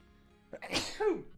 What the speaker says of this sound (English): Oh, I sneezed.